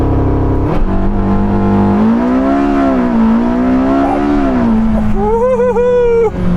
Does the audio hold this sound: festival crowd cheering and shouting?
no